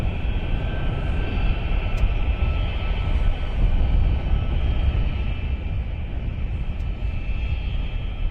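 C-17 military transport aircraft taking off, a steady heavy engine roar that stays loud and even throughout, distant but dominant, with no voices.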